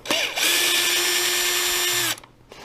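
A power drill spins up sharply, holds a steady high whine for about two seconds while backing bolts out of an X-Maxx RC truck's front end, then cuts off abruptly.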